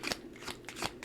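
Quiet crisp riffles of cards being shuffled, four short bursts in a loose rhythm, close by with no talking.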